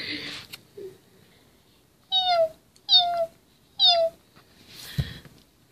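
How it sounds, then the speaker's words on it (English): A hungry cat begging for food meows three times in clear, evenly spaced calls, close and fairly loud, with soft rustling before and after. "you're already begging me for cat food?"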